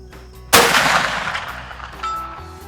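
A black powder rifle, a CVA Optima, fires a single loud, close shot outdoors in the woods toward a target 322 yards away, the sharp blast followed by a long rolling echo and a faint distant report about a second and a half later.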